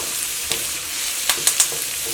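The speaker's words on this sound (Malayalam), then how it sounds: "ഇതെല്ലാം കൂടിയിട്ട് നന്നായിട്ടൊന്ന് വഴറ്റിയിട്ട് എടുക്കാം." Carrot and onion sautéing in a pan with green chili and curry leaves for a vegetable curry, a steady soft sizzle broken by a few sharp scrapes and taps of stirring.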